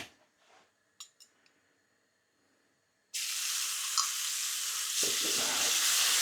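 Garlic frying in a little oil, quiet clinks and handling noises, then a sudden loud, steady sizzle that starts halfway and continues to the end, no talking.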